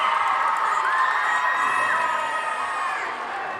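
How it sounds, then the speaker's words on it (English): Basketball crowd at a men's quarterfinal between Oklahoma Baptist and East Central roars with sustained cheering and whoops, steady and loud throughout, easing slightly near the end. "Fans of both those schools cheering you on now"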